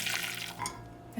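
Water drains from a pot of boiled strips, a steady close splashing pour with a brief louder gush near the end.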